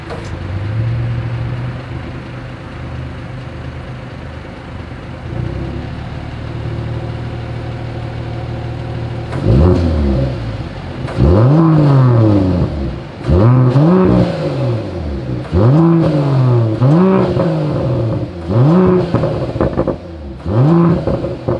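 Performance exhaust on a 2021 Mercedes-AMG GLE Coupe idles steadily, then barks through a series of sharp, loud rev blips that rise and fall in quick succession, heard up close.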